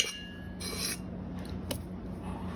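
A scraper rasps against a bowl while scraping out sourdough bread dough, with a couple of short rubbing strokes and a faint clink, close and quiet with no talking.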